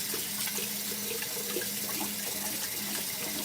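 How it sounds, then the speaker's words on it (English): Tap water runs steadily into a kitchen sink during dishwashing, a continuous close splashing rush with faint clinks and no talking. "I wash my dishes."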